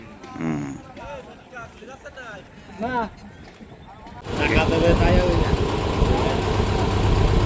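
Fishing trawler engine in the Sundarbans starts loud and steady after about four seconds, a dense continuous drone, with people talking briefly over the quieter opening.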